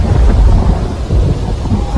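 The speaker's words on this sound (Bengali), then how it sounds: "বৃষ্টিটা বেড়েছে।" Heavy rain pours down with rumbling thunder, used as a sound effect in a Bengali audio drama. It is loud and continuous with deep low rolls, and no voices.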